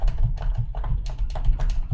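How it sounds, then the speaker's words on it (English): Rapid, irregular clicking of a computer keyboard being typed on, close and fairly soft, with uneven bursts of keystrokes and no voices. "I hope that the keyboard sound wasn't loud"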